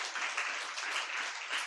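An audience claps steadily throughout, a dense, even patter of many hands at a sermon-style gathering, with no voices standing out above it.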